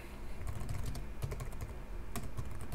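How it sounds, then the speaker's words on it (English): Typing on a computer keyboard, with quick, close clicks of keys pressed in short uneven bursts and no talking. "Let me type that up"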